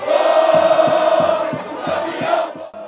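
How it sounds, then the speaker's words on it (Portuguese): Brazilian football fans loudly chanting the traditional "o campeão voltou" song in unison, a massed sung melody over rhythmic drum beats, filling the stadium before fading slightly at the end. "A torcida entoou o tradicional canto de o campeão voltou"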